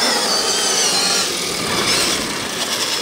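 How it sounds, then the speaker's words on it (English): Clutch shoes on an electric side-by-side winding down, heard as a broad, steady whirring hiss close by with no voices. "I love the sound of those clutch shoes winding down"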